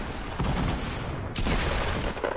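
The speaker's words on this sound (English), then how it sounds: "See, they're shooting." Rapid gunfire from a video game battle, dense bursts of shots running steadily through the moment with a sharper volley near the middle, loud and close with no talking.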